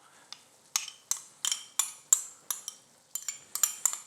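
Spoon or spatula scraping chili crab paste into a wok, a string of about a dozen sharp metallic scrapes and clinks in an uneven rhythm, close and fairly quiet.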